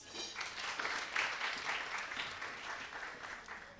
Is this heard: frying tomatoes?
no